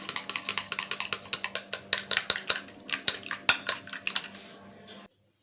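Eggs with salt being beaten and mixed with ponnanganni greens for an omelette: a fast run of sharp metal-on-bowl clinks and taps, close and steady, alone for about five seconds before stopping abruptly.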